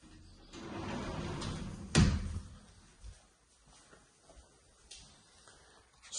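A sliding mirror closet door in a house rolls along its track and thuds shut, a rumbling glide followed by one sharp knock, then a few faint quieter bumps, close by with no talk.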